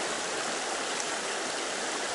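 A mountain stream flows steadily over rocks in a snowy area near an apiary, a dense, loud rushing hiss with no pauses and no voices.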